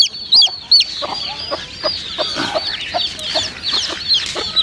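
Kadaknath hen and her chicks clucking close by, with a steady run of short, repeated clucks and chirps at a moderate level and no talking.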